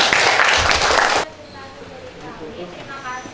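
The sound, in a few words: audience applause for the group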